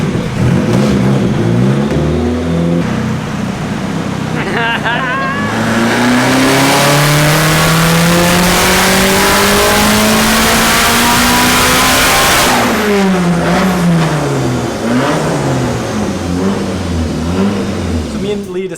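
A tuned SR20 engine in a Nissan S15 revs hard on a dyno, climbing steadily to a loud high-rpm scream near 8000 rpm before dropping back and burbling down, with voices faintly audible over the loud engine.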